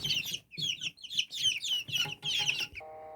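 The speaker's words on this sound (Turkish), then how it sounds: "Geniş çıkan civcivler de gösterim." Two-day-old newly hatched chicks chirping near an incubator, a run of high bright peeps in quick bursts, close and fairly loud, with a faint machine hum at the end.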